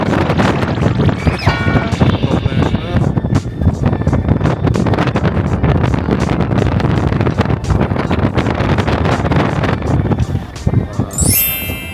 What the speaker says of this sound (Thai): ไม่กลัวความสูงแต่ว่าลมแรงน่ากลัว